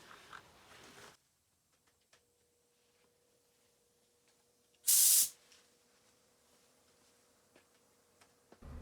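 A single short, loud burst of spray from a paint spray gun in a garage during autobody repair, after a long quiet stretch, close by, with faint clicks around it.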